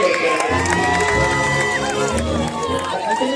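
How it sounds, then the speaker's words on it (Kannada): A crowd at a Kannada folk song stage programme gives loud, continuous applause mixed with cheers and shouts, a dense near wash of clapping and voices throughout. "ಅಣ್ಣಾಜಿ ಅವ್ರ ಜೋರಾಗಿ ಚಪ್ಪಾಳೆ"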